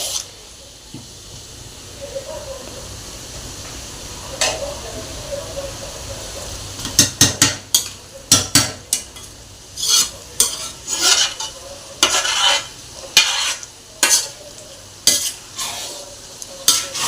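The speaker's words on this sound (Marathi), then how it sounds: "मसाल्याला तेल सुटेपर्यंत मसाला भाजत राहायचा." Vada pav masala roasts in oil while a spoon stirs and scrapes the pan, giving a low steady sizzle punctuated by frequent sharp, close metallic scrapes that grow more regular toward the end.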